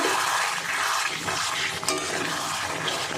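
Shrimp and Malabar spinach stems get stirred in an oiled pan, a dense continuous sizzle with faint scraping of the utensil against the pan.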